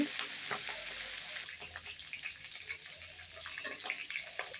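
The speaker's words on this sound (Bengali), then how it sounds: "মাছটা আমার ভাজা হয়ে গেছে এখন একে একে মাছটাকে উঠিয়ে নেব" Rohu fish pieces frying in oil in a pan at home make a soft, fairly quiet sizzle with scattered pops and crackles, fading slightly midway.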